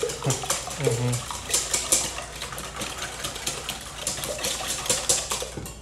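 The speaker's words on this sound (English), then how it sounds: "So go ahead and whisk those up a little bit." Egg mixture whisked in a bowl for croissant French toast, a steady, fast clattering of the whisk against the bowl continuing throughout, with someone briefly talking at the start.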